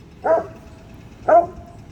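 A Cane Corso gives two single barks about a second apart, mid-distance and fairly clear, over a low steady background hum.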